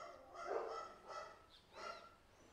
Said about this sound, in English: my dog is going insane.